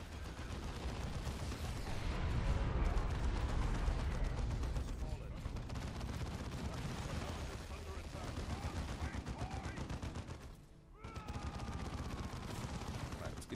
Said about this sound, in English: Drop some artillery right there.